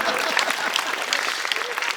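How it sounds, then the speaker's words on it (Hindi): Audience applause at a Hindi comic poetry recital (kavi sammelan), a dense steady clatter of many hands clapping for the full two seconds, with faint crowd murmur underneath. "बजाओ ताली इस बात पर।"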